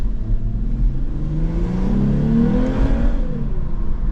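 A 2023 Lexus IS 350 F Sport engine revs up, its pitch climbing and then easing back down, loud and close with a steady rumble underneath.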